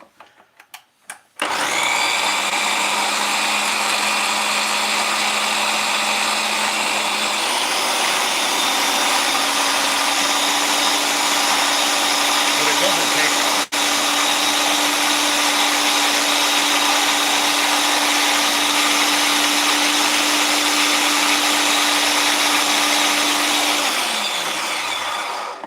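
A food processor whirs through roasted pumpkin, a loud continuous motor drone that starts abruptly, shifts pitch partway through, runs steadily for over twenty seconds, then winds down.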